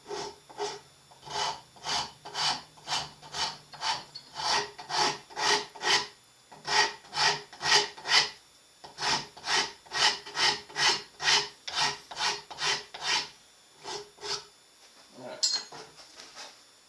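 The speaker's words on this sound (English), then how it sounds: "You just take your wood rasp and do the same thing." A wood rasp scrapes back and forth over wooden gun-stock wood while fitting a buttplate, taking off transferred colour in about two dozen steady, close, rhythmic strokes with a brief pause partway and a clink near the end.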